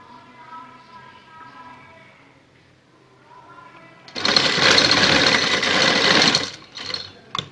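A sewing machine stitches lace onto a garment neckline in one loud, steady burst of fast whirring running after a stretch of quiet talk, then stops briefly and gives a short extra stitch.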